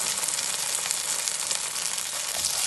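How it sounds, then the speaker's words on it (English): Pierogi browning in unsalted butter in a frying pan give a steady, close, dense sizzle that holds evenly for the whole stretch, with no talk over it. "add it into your frying pan with tablespoons of unsalted butter"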